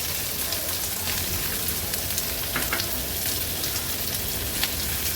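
Onion, curry leaves, cumin, asafoetida and green chillies frying in hot oil over a medium flame, a steady dense sizzle with faint crackles and pops, close and continuous without talk.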